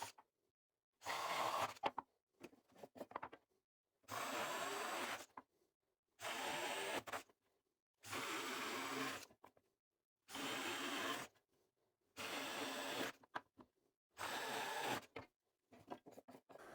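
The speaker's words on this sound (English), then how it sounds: "We're gonna drill all the way through it." A power drill bores holes through a wooden board in repeated bursts of about a second each, with short silent gaps between them. Each run is loud and close, with a whirring grind and a slight chatter.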